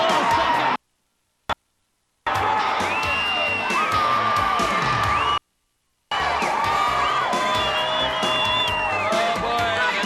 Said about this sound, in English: Oh boy, the crowd loves this here at Softball City